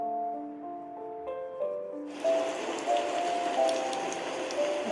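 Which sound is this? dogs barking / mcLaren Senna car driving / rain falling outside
rain falling outside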